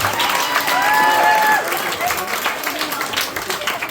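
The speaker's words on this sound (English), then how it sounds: "let's have a big round of applause for Constance's parents, Bruno and Marie Coleraine" Wedding guests at a celebration in La Baule break into loud applause with some cheering and shouting voices, a full, sustained wash of clapping with a few whistles near the start.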